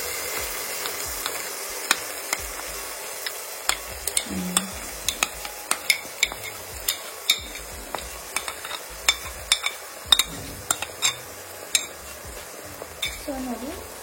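Masala is stirred into paneer masala in a pan, with a steady frying sizzle under repeated metallic clinks and scrapes of a spoon against the pan, and a voice talking now and then.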